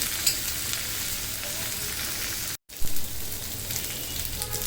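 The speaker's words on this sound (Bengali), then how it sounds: "আপনি একটু নেড়ে চেড়ে ভালো মতন ভেজে নিতে পারেন" Potatoes and meat, with whole garlic cloves, fry in a pan with a steady close sizzle and crackle, briefly cut out midway before the frying and stirring resume.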